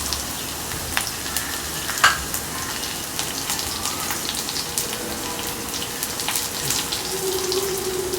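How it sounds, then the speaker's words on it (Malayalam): Mustard seeds sputter in hot oil for a Kerala kadala curry, with scattered sharp pops and crackles over a steady close frying hiss and faint kitchen sounds. "കടുക് പൊട്ടാൻ തുടങ്ങിയിട്ടുണ്ട്."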